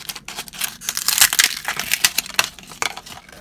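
A toy fortune cookie from a Littlest Pet Shop pack being cracked open by hand: close, crisp crunching and crinkling of plastic and wrapping in rapid irregular bursts, with no talk over it.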